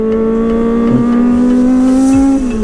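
A 400cc motorcycle engine holds a loud, steady droning tone close by on a ride in Camarines Sur, its pitch rising slightly before dropping off near the end.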